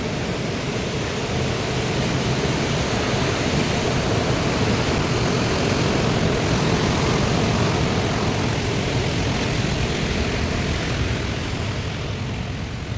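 A mountain stream in Rango forest village, West Bengal, rushes with a steady, dense roar that holds even and unbroken throughout, with no voices over it.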